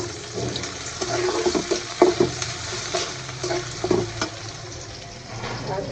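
Cinnamon and cardamom dropped into a hot pot with chopped onion sizzle and crackle, with intermittent stirring scrapes and soft bubbling at moderate volume.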